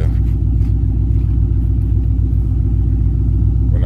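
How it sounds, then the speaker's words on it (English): A loud, deep Ford Mustang engine rumbles steadily and throbs at a low pitch throughout, close and without pauses. "my car is kind of loud now with the setup that I have"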